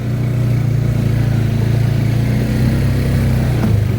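Honda Rubicon ATV engine climbing a hill, a steady droning mid-pitched hum held at constant load, loud and close with no talk.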